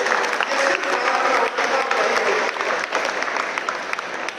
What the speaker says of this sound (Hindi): एक बार भारतीय संस्कृति के लिए आप जोरदार ताली बजाइए